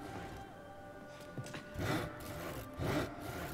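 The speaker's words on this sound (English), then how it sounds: "Oh, you're sawing." Rhythmic rasping saw strokes in the video game Blue Fire, set in an overgrown plant temple, come in a few broad bursts over a steady hum of game ambience and music.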